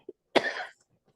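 A single close cough from a person at a Human Relations Commission meeting, one harsh burst with a brief throaty tail, set in an otherwise quiet room with faint murmurs before and after.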